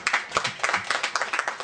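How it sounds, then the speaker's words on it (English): Brief scattered clapping from a small audience at a residents' association annual general meeting, quick uneven hand claps indoors, moderately close and without talk. "You should give yourself a clap now."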